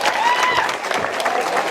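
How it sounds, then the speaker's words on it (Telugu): An audience claps during a lively Telugu talk-show recording, a brief dense burst of applause with crowd noise, and a faint tonal whine running underneath. "దాదా గట్టిగా చప్పట్లు కొట్టినకి"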